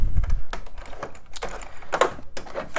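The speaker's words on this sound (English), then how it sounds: "So it has a little clicky clicky keyboard, which is nice." Keys clack on the clicky keyboard of a late 1980s 286 suitcase computer, a close, uneven series of sharp taps and presses with brief pauses between them.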